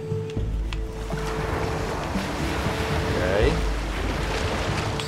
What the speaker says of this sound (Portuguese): Vamos ter cuidado com as ondas, pá.